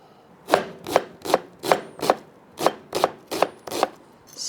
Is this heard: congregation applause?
no